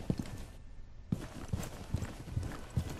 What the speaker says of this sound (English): I heard footsteps, but I really could not see where they were coming from.